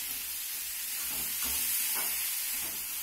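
Kohlrabi and potato frying in a pan, a steady close sizzle and hiss running throughout with a few soft stirring scrapes, no voices.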